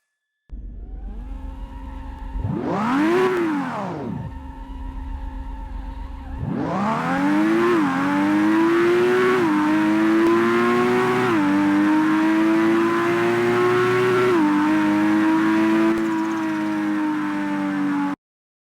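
Racing car engines in the mobile drag-racing game APEX Racer roar loudly, with one quick rev that rises and falls, then a sustained climb through repeated gear shifts, each marked by a brief dip before the pitch rises again.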